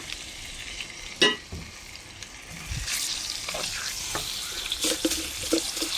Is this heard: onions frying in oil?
yes